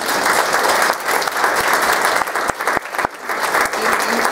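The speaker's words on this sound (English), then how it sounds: "give yourself a great big round of applause" A lecture audience gives itself a loud, sustained round of applause that stays dense throughout and dips briefly near the end.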